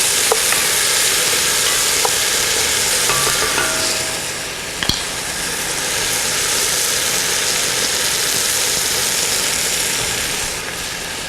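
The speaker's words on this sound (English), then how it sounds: "Now I'm going to add our diced tomatoes, and I'm going to let that brown as well." Diced tomatoes browning with pork in a pot roast pan give a loud, continuous frying sizzle close by, broken by occasional clinks and a sharp tap partway through, with no voices.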